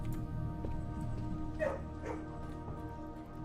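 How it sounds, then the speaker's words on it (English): Dog noises come from a kennel in a modded Minecraft world, with faint yips and short whimpering barks rising over a dense, steady hum of machinery and game ambience. "now everyone gets to be confused as to why there's dog noises outside their house"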